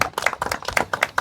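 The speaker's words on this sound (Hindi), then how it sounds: "आओ तालियां" A ceremony crowd claps in quick, uneven bursts of hand claps, fairly close and moderately loud, forming short irregular applause.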